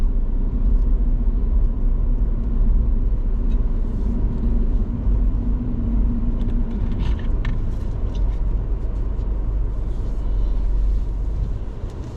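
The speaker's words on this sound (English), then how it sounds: "The cars that you can see crossing the path at the moment, they're on the main highway" Cars driving along a main highway, heard from inside a moving Mini Cooper, form a continuous broad road rumble with a low drone and passing tyre noise that stays loud throughout.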